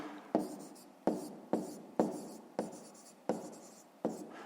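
Pen writing by hand on paper during a math exercise, with seven quiet, distinct strokes in an irregular rhythm, each a short scratchy tap fading out.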